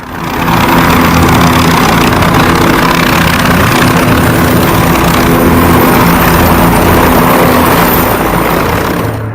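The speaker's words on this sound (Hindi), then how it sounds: "इन्हें ले जाया गया हेलीकॉप्टर से।" A helicopter drones loudly and steadily at close range, its engine and rotor noise constant from start to finish with no voices.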